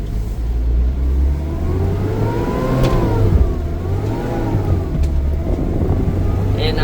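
A Nissan Atlas 150 diesel truck engine pulls through the gears from inside the cab, a loud, steady low drone whose pitch rises, drops at the shifts and climbs again, with no talking.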